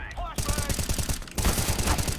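Rapid bursts of gunfire in the Counter-Strike video game, a dense run of close, loud shots with a brief pause midway before more firing resumes.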